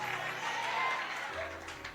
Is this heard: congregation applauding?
yes